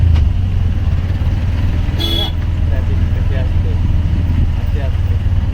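Cars and motorcycles sit idling in a road traffic jam, a steady low engine rumble filling the scene, with faint voices in the background.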